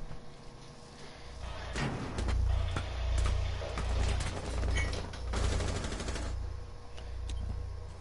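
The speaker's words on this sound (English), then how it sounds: "Shooting through the wall." Muffled gunfire from Rainbow Six Siege shots fired through a wall, arriving as dense rapid bursts over about eight seconds, with brief pauses between volleys and a steady low rumble beneath.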